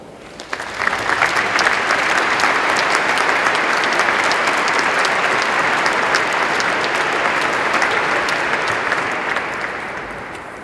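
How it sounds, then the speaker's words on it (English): A large audience at the DeMatha 2014 commencement ceremony breaks into sustained applause, a thick, steady wash of clapping lasting about ten seconds before easing off slightly at the end. "Please join me in giving them a warm round of applause."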